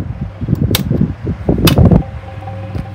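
A 1960s Pifco 12-inch electric fan running close by, a loud steady whir with rattling, fluttering pulses and a couple of sharp ticks.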